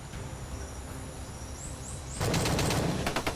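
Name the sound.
heavy gunfire, many shots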